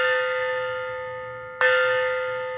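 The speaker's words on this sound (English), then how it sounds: "It's time to ring our bell and our gong." A classroom bell rings with a sustained metallic tone, then is struck again about halfway through, each strike decaying slowly with no talk over it.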